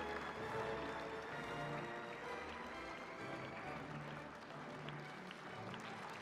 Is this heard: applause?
yes